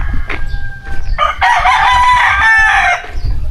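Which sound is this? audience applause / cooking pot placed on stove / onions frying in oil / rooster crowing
rooster crowing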